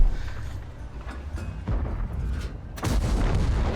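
Tank cannon fire in World of Tanks, a Type 71 heavy tank in battle: a loud boom lands near the end, with a softer earlier thud, over a steady rumbling engine and battle background.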